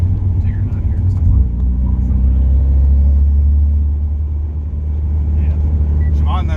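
A turbocharged car engine rumbles loudly from inside the cabin during a hard pull, a deep sustained roar that eases slightly midway, with voices talking over it.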